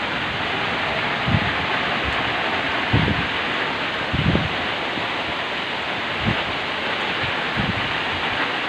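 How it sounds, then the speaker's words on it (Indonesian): Heavy rain pours down in a constant hiss while strong wind roars in a storm at a livestock pen, with a few low gusting thumps rising now and then. "Hujan angin gede."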